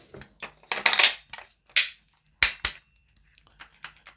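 A Double Eagle Aeroknox AX15 airsoft gas blowback rifle fires propane-powered 0.3 gram BBs in a short irregular burst of sharp, close cracks with the bolt clacking, then a few lighter clicks trailing off.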